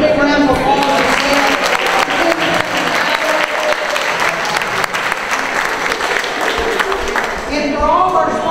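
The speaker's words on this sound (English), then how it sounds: "would you please give them a big round of applause?" A large crowd at a Republican Party BBQ in Winder, Georgia applauds steadily, dense clapping sustained at full volume for several seconds, with some voices mixed into the clapping.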